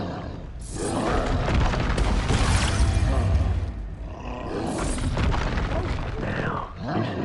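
Expulso spell explosions in the video game Hogwarts Legacy, two loud booming blasts that swell into roaring rumbles, each trailing off before the next, with a voice heard calling out over them.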